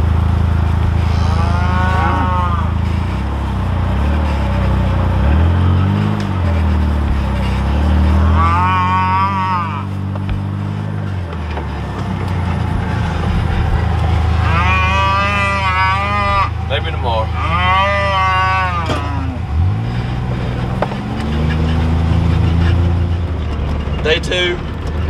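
Cows and calves moo repeatedly in a pasture during weaning, several long calls near and far at intervals, over a steady low engine rumble and outdoor noise; a person speaks at times between the calls.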